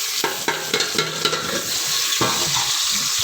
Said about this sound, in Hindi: हमारा अभी प्याज ब्राउन होने लग गया।